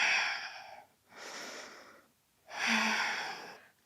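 Slow, deep breathing during a balance yoga flow, three long, airy breaths in and out with brief quiet gaps between them, close and soft, no speech.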